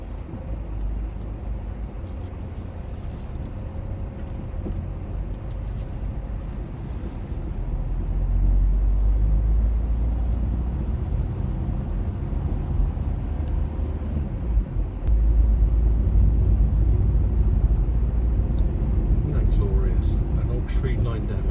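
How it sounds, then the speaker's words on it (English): An AEC Regal IV bus from the 1950s drives along a tree-lined avenue, its engine a steady low drone that swells louder partway through and carries on, with a voice speaking over it. "Tree-lined avenue with an old 1950s bus."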